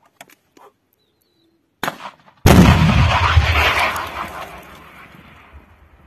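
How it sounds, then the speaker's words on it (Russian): A few faint clicks and a short metallic clatter, then a single loud, booming launch of a Stugna-P anti-tank guided missile that rings out and slowly fades, close and heavy. "Выстрел!"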